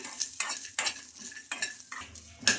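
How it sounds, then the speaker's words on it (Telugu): Peanuts and green chillies frying in a pan are stirred in repeated scraping strokes, about five of them, each with a brief sizzle, close and moderately loud with no talk. "పల్లీలు బాగా ఫ్రై అవ్వాలి"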